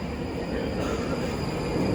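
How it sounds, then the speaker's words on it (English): A London Underground train at Bank station rolls in with a steady, dense roar and faint high squeal from the wheels, filling the whole stretch continuously. "my train via Bank pulled up into the station"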